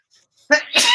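A single sharp sneeze bursts out close by in two quick parts after a brief intake of breath, in an otherwise quiet room.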